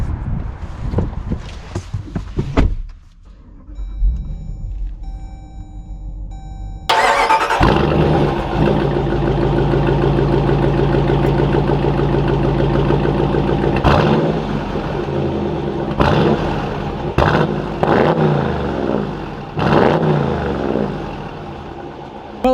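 A 2021 Dodge Durango R/T Tow N' Go starts up after a few seconds of handling noise, with a brief crank and catch, then settles into a steady engine hum as it drives off, broken by a few clicks and knocks.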